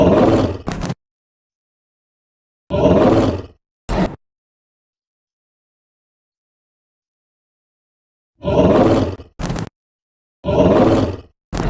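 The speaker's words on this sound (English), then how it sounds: "Tiger." Tiger roar sound effects, several separate bursts of growling roar with near silence between them, loud and close, no talk over them.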